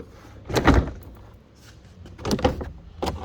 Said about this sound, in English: Now we'll pull the door out.